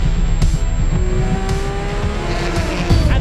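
Porsche GT race cars roar off the start of the Nürburgring 24 Hours, a loud, dense wall of engines revving and accelerating together, with rising engine notes and brief tire squeal as the pack gets underway.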